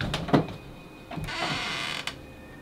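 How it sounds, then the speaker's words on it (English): A door in a haunted museum creaks open in a few short, scraping groans with brief pauses between them, close and fairly clear, with no talking over it. "Oh, I watched the door just open."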